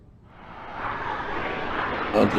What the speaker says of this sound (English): Oh, it's a jet.